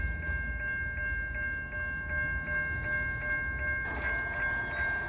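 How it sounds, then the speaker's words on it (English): A short CN freight train with new hoppers rolls past in winter at moderate distance with a steady rumble, faint rhythmic wheel clatter and a sustained high-pitched squeal from the wheels. "That's the end of the train right there."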